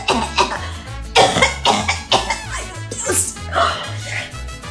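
Repeated harsh coughing from a person who is sick with a sore throat, a rapid series of close, loud coughs with short gaps between them.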